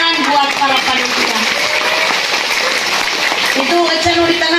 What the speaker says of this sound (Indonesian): tepuk tangan buat para panitia